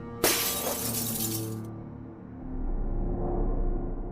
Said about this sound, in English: I heard a noise that seemed to come from the small balcony upstairs, near the bedrooms, and then a shattering sound.